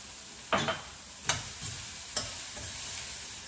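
Cauliflower rice with roasted peanuts and asafoetida stirred in a pan, a few distinct spatula scrapes spaced about a second apart over a low steady sizzle, close and without talk.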